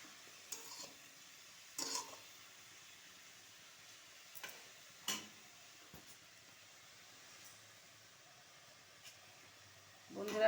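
Chickpea greens stirred in a pan with a little turmeric, faint sizzling under scattered soft scrapes and clinks of a spatula, close but quiet.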